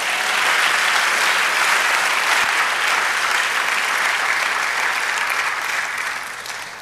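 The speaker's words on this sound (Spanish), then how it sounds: "Denle un aplauso al Señor." A church congregation applauds, a dense, sustained clapping that stays loud and even for several seconds before easing slightly at the end.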